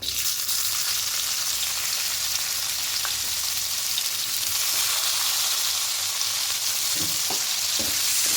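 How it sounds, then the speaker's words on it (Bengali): Dried red chillies and chopped onion fry in hot oil in a pan with a constant close hiss and sizzle, broken by a few soft stirring clicks. "এবার তেলের মধ্যে দুটো শুকনো লঙ্কা ফোড়ন দেব আর এখানে পেঁয়াজ কুচিটা দিয়ে দেব"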